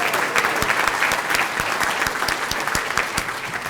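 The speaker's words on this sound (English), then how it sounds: "Round of applause." A crowd at a school ceremony gives a steady round of applause, dense and even, with a few sharper claps standing out near the front.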